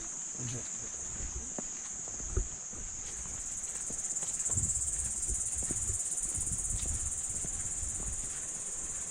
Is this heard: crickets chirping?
yes